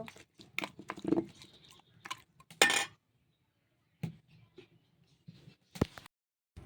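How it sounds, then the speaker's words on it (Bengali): A spatula mixes raw beef with ground dried chili paste, coriander powder and garam masala, giving scattered close clinks and scrapes in short bursts, with quiet pauses between strokes. "দিয়ে এটা খুন্তি দিয়ে মাখিয়ে নেব।"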